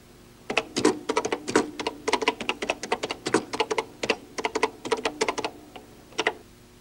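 Fingers type on a Commodore PET computer keyboard in a quick, irregular run of crisp individual key clacks, close and clear, with brief pauses between bursts.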